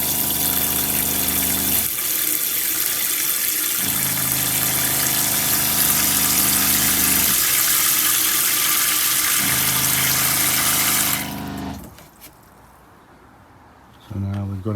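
Water rushes steadily into a tank in a self-built camper van's plumbing, driven by a pump with a humming, rising and falling whine, then stops abruptly into quiet as a voice speaks.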